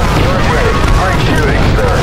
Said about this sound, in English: Give us heavy weapon fire